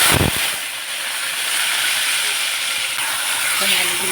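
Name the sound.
potatoes frying in mustard oil in a wok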